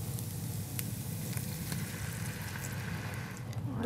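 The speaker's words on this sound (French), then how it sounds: "ça fait à peu près 5 minutes que nos petits légumes reviennent" Small vegetables sautéing in a pan, a steady close sizzle and crackle that carries on evenly throughout with a few faint clinks, and no talking over it.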